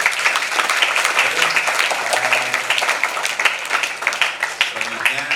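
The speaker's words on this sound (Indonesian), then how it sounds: "tepuk tangan untuk kita semua" Applause from the audience at the opening ceremony of Aqobah International School, a steady dense patter of clapping that holds for several seconds, with faint voices murmuring underneath.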